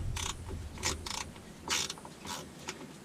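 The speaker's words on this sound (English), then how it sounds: "So go ahead and remove the fill port." A hand ratchet loosens the differential fill port plug on a 2017 Chevy 3500HD, producing several close, loud bursts of rapid clicking separated by short pauses.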